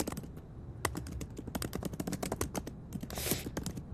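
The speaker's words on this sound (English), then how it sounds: "insert typing noises. Typing noises." Rapid, irregular clicking of keys on a computer keyboard, with dense bursts of taps close by and a brief rustle near the end, with no talk over it.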